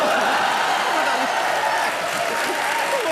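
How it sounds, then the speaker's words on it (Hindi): A studio audience at a comedy show breaks into sustained applause, a dense, even wash of clapping from many hands with crowd voices underneath. "ठोकताली"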